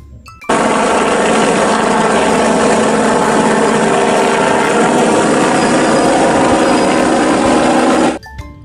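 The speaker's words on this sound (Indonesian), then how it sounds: "helikopter polisi ya teman" A police helicopter toy sends out a loud, steady whirring roar that starts suddenly and holds level for nearly eight seconds before stopping sharply.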